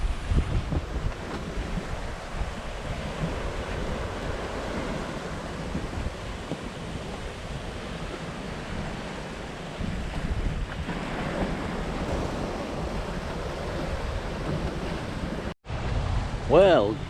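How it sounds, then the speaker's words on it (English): Water rushes steadily past the hull of a Hallberg-Rassy 54 sailboat under sail at sea in a 17-knot wind, with a constant wash of surf and wind noise throughout and a brief dropout near the end. "The water is just whipping past the boat."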